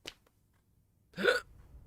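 A single sharp hiccup sounds up close, preceded by a faint short breath and followed by quiet.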